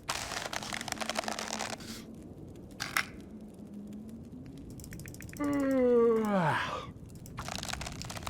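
Crafting and repairing with sewing kits in The Long Dark survival game, heard as short ratcheting mechanical clicks and crinkling in several bursts, with a rising synthetic tone near the end.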